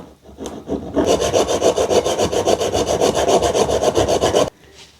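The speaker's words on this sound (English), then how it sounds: "now I need to trim the end off with the hacksaw" A hacksaw trims the end off a rod with about three and a half seconds of fast, even back-and-forth rasping strokes, close and loud, and then stops abruptly.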